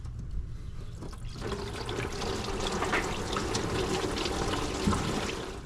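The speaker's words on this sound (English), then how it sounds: "it's still draining, but just look at how dirty this coolant was" Dirty coolant drains from a Jeep's lower radiator hose in a steady trickling, splashing stream of liquid, moderately close and fairly soft, with no one talking.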